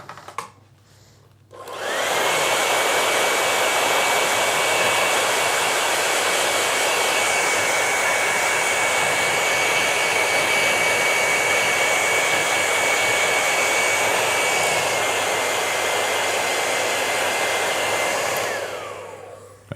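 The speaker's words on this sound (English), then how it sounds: "guess I kind of missed that warning that you were going to use the hairdryer" Hair dryer blowing on a painting of a colorful lion, a loud steady whooshing whine that starts abruptly after a short quiet moment and runs continuously before cutting off at the end.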